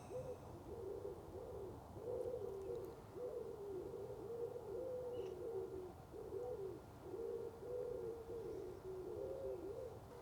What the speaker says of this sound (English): Birds are very vocal this morning. Wood pigeons, crows.